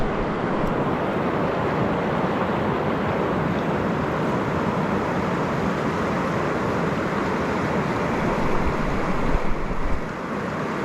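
Fast-moving flood water rushes down a desert wash toward the Colorado River near Parker, Arizona, as a loud, steady, broadband roar throughout, with wind buffeting the microphone and no talk.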